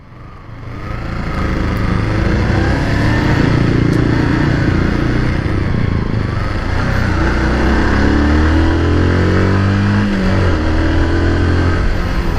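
A used Yamaha R15 V2 150 cc sport motorcycle engine revs up close, rising from idle into a loud, steady rasp with rising and falling pitch as the throttle is worked.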